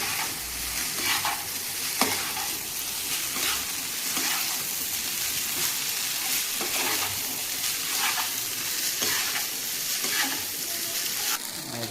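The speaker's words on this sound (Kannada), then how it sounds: "ಈಗ ಐ ಫ್ಲೇಮಲ್ಲಿ ಇದನ್ನು ಕಲಿಸ್ಕೋಬೇಕು ನಿಧಾನಕ್ಕೆ" Vegetable fried rice with soy sauce and ketchup being stir-fried over a high flame, a steady loud sizzle broken by repeated scraping stirs of the spatula against the pan, with no voices.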